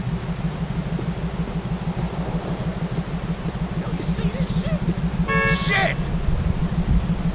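Car horn in the video game GTA 4, a short loud toot over a steady rumbling in-game engine drone, with a voice talking over it.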